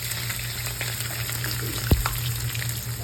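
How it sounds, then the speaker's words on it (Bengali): Spice paste sizzles and fries steadily in a little hot oil while chicken gizzard is being cooked, a continuous close crackling hiss with a brief clink of a utensil partway through and no talking. "সামান্য তেলের মধ্যে বই আপনার ওই পেস্টটা দিলাম"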